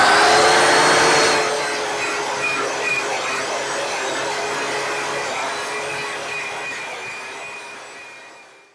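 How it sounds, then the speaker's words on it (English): An angle grinder fitted with a wire wheel whines loudly and steadily as it strips rust from a vehicle's underside, starting at full speed and then slowly winding down to silence. "next thing to do will be to get out grinder, wire wheel, hopefully try to make this look a lot nicer"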